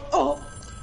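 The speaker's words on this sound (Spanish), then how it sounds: "Me están llamando por teléfono" A telephone ring sounds inside the Fortnite video game, a single short burst heard clearly over quiet game ambience.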